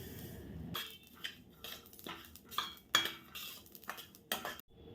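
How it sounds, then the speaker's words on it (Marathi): Dry garden cress seeds crackling in a hot pan, with irregular sharp pops and metallic scraping of a spatula, close up. "हे बघा दोन मिनिटातच हे तडतडाला पण लागले"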